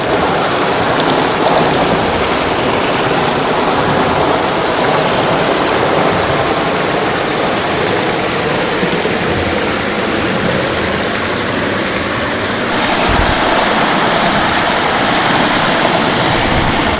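Streams rush around the river islands of Kuruva Island in Wayanad, a loud, unbroken roar of flowing water that fills the whole stretch with no voices.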